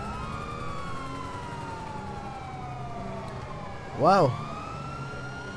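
A video game police car siren in GTA 5 wails, sweeping up and down over engine noise during a pursuit, with a brief spoken exclamation near the end.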